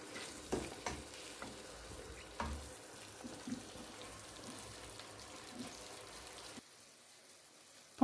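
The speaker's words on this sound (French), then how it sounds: "on va laisser compoter 5 à 10 minutes pour que l'oignon caramélise bien correctement" Onions cook down slowly with sugar in a pan for a plum chutney, a soft steady simmering sizzle with occasional light knocks and clinks, fading to quiet near the end.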